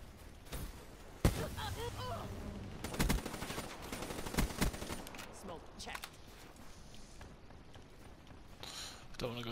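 Rapid automatic gunfire in a multiplayer shooter video game, several fast bursts of sharp shots scattered among game noise while people talk over them.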